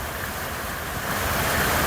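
Cold milk is poured for aval milk, a Kerala drink of sugar and beaten rice, giving a steady close rushing pour that grows slightly louder partway through.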